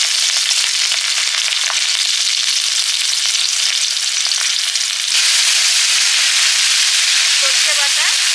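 Nigella seeds and green chilies fry in hot oil with a loud, dense crackling sizzle that intensifies partway through and continues to the end.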